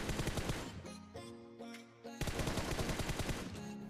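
Rapid bursts of gunfire from the mobile battle-royale game PUBG, dense automatic shots at close range that pause briefly mid-clip before resuming, with no talk.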